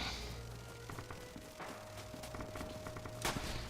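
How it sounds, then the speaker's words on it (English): Distant gunfire in the World War II shooter Red Orchestra 2 at Stalingrad, scattered faint shots and a sharper nearer crack near the end over a low background hum. "I thought some shooting came over"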